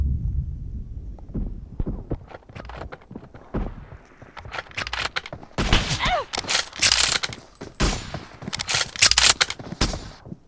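PUBG Mobile gunfire rings out in scattered single shots and short rapid bursts, growing denser and louder toward the end, with clicks and footsteps between volleys and no talk.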